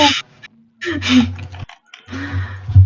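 Bursts of typing on a computer keyboard, close and fairly loud, with a steady low hum underneath and brief pauses between flurries of keystrokes.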